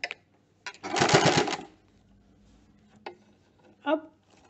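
A sewing machine stitches a fabric face mask, lapping and sewing the strip in: one loud, fast whirring burst of about half a second, with brief clicks and short handling sounds before and after.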